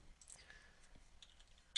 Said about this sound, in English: let's try typing in